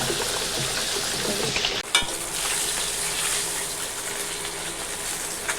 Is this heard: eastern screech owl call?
no